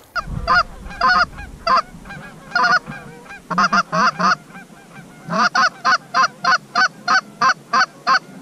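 Canada geese honk repeatedly and loudly up close, first in irregular bursts, then in a fast, steady series of calls.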